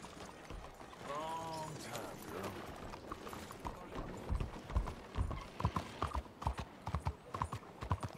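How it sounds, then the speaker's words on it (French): Horse hooves clip-clop in a steady trot in Red Dead Redemption 2, growing louder and more distinct, with a brief whinny and faint mechanical clicks early on. "on va y aller à cheval"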